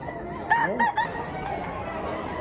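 Roosters crow and chickens cluck at a chicken market in Padre Garcia, Batangas, with a few short crows standing out near the start over a steady murmur of the crowd.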